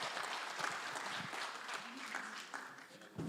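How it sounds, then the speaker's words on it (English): Audience at an international health conference in a university hall applauding a speaker, a dense, steady wash of clapping from many hands, fairly distant and soft, lasting a few seconds. "let's round of applause for Brian Demisi"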